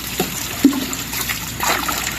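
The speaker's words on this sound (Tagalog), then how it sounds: "Dagdagan yung tubig." Water is poured into a DIY overflow siphon, giving a light, continuous trickle and dribble for a couple of seconds at close range with no talking.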